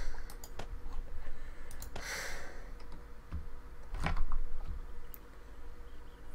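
Noisy computer keyboard typing during a 7 Days to Die gaming session: scattered sharp clicks and taps at close range, irregular and fairly quiet, with a few louder bursts of key strikes.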